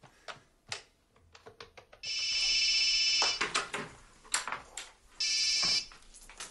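A telephone rings in two long electronic bursts, loud and close, amid muffled background sounds with no clear speech.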